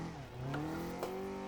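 A drift car's engine in a VR racing game rises in pitch as it revs upward, a quiet, continuous mechanical whine with a slight stumble in the middle.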